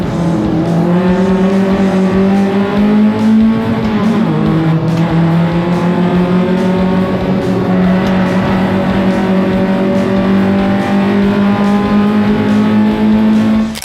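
A Hyundai Excel race car at an Australian grassroots Excel Nationals race runs hard with a loud, continuous engine drone heard close up. The pitch dips briefly around a gear change, then climbs and holds steady at high revs.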